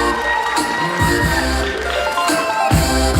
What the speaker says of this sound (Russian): Наградите их еще раз аплодисментами